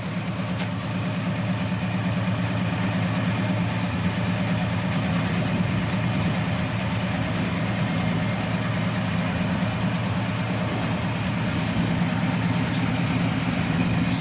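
A 1967 Chevrolet Chevelle SS 396 big-block V8 with a late-'66 motor, aluminum intake, Holley carburetor, ceramic-coated headers and Flowmaster exhaust idles steadily and loudly up close, a continuous rumbling burble with no talking.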